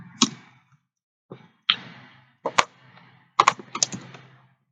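A handful of separate key presses, sparse and irregular with gaps between them, close and fairly loud while a CSS value is entered; no voices.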